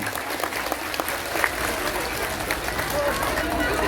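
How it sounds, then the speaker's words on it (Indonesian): A crowded Islamic congregation in Taichung, Taiwan, applauds the Banser Taiwan group with steady, dense clapping that fills the hall for several seconds, while a voice carries on over the noise. "Sekali lagi tepuk tangan untuk Banser Taiwan"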